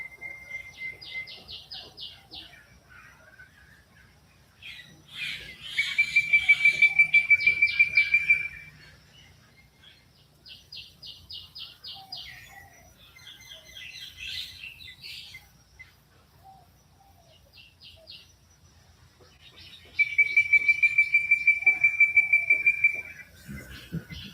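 Birds chirp at sunrise in rapid repeated trills and calls, with two louder, denser bursts of song standing out against an otherwise quiet background.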